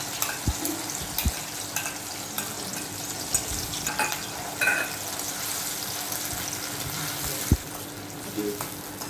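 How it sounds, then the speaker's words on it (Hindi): Tomato and ginger garlic paste sautéing on low flame in a pan for vegetable biryani, with a steady soft sizzle and occasional stirring scrapes and clinks throughout, no talking. "जिंजर गार्लिक पेस्ट को थोड़ा मैं सौटे करती हूँ, जैसे इनका कच्चापन निकल जाए।"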